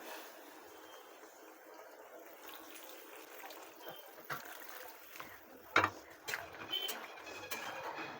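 Hot water is poured into a simmering mustard fish curry with boal fish, a faint trickle and splash building near the end over quiet kitchen background.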